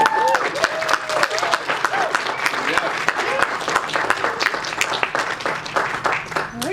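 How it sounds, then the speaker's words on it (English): A crowd applauds with dense, sustained clapping throughout, while a speaker's voice continues over it and a few cheers rise. "Another round of applause."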